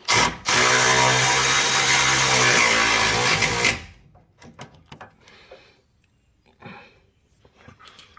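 Milwaukee power ratchet tightening front subframe bolts on a Jeep Patriot/Compass/Caliber, a loud continuous whirring buzz for several seconds that stops abruptly, followed by faint clinks and handling noises.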